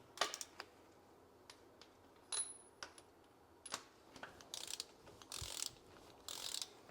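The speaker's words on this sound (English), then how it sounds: "my torque wrench only goes down to 10, so we're going to tighten them to 10." Ratcheting torque wrench tightening spark plugs on a Lada Niva engine, giving repeated short mechanical clicks and metallic rattles in uneven bursts, close and moderately loud, with no talking.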